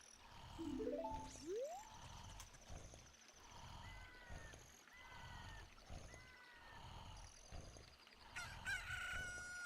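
A chicken in a Zelda video game crows and clucks right after hatching from an egg, a rising cock-a-doodle call followed by repeated short clucks over a rhythmic background pulse.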